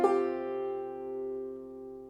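A single brushed strum on a clawhammer banjo rings out as one chord that decays slowly over about two seconds, close and alone with no voices.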